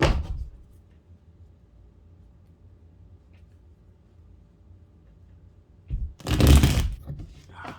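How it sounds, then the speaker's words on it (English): Tarot cards shuffled in a short, loud burst of riffling and snapping near the end, after a stretch of near silence with a faint low hum. "Alright, final shuffle."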